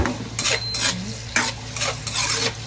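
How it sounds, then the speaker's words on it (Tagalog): Carrots sautéing in a pan with steady sizzle and several scraping stirs, the spatula strokes coming in bursts close by, no talking. "So igisa lang natin yung carrots."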